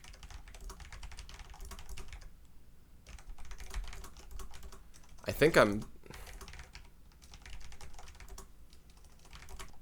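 Close, steady typing on a computer keyboard with a rapid burst of clicks midway, while someone speaks quietly at times.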